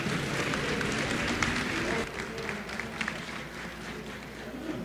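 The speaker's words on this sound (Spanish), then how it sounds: "Un fuerte aplauso, por favor." Conference audience applauding a guest speaker, a sustained crowd clapping that stays dense and even, slightly distant and moderately quiet.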